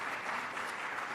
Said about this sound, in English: Give Gene a round of applause, for heaven's sakes